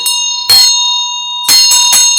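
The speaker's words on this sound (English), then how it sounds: "when you ring the bell, you're not calling the cows home" A Tibetan ritual hand bell, paired with a vajra, rings with bright sustained metallic tones: two strikes about a second apart, then a quicker double ring, each leaving a long steady hum.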